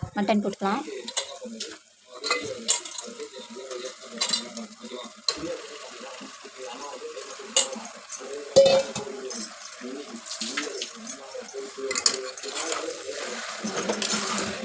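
Mutton being stirred into sizzling ginger-garlic paste for Chettinad mutton gravy, with scraping and clinking of a utensil against the pan under steady frying, while someone talks throughout.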